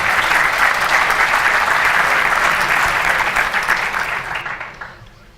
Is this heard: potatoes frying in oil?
no